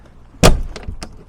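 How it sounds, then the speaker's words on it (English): A car's rear door shuts with one sharp, close thud, followed by a few faint latch clicks and rattles; the car has been damaged in a crash. "The rear door opens and closes fine."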